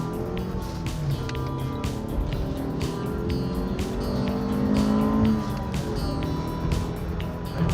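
A 1992 Acura with a small 1.7 liter engine pulls hard, its steady engine drone rising in pitch as it accelerates close up, with faint talk in the background.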